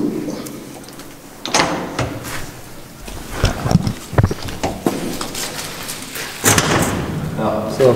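The door of a makeshift shelter being shut outdoors, with a few close thumps and knocks of wood, and people talking throughout.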